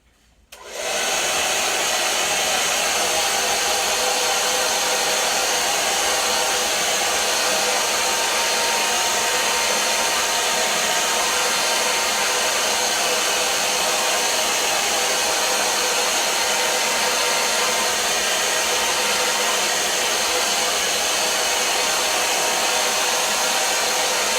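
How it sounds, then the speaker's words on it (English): A hair dryer switches on and blows hard and steadily at close range over a painted background, a loud unbroken rushing whine that continues alone. "you can kind of just blow dry your background just enough so that we can start sketching on your basket"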